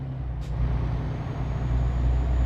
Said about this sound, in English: I love the truck sounds in this game.